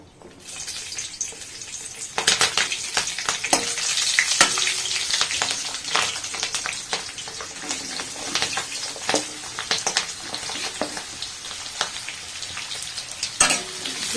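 Chopped onions and chillies hit the oil and fry briskly in a pan for Assamese-style duck with ash gourd, a constant loud sizzle punctuated by frequent scraping and clacking strokes of a stirring spoon, close up.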